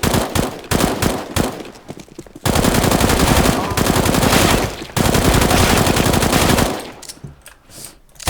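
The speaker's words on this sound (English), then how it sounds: "I've never actually used the FAMAS burst fire in competitive." FAMAS burst fire in CS:GO comes as rapid back-to-back volleys: short clustered bursts first, then two long sustained strings of loud gunfire separated by a brief gap, ending in quieter scattered shots.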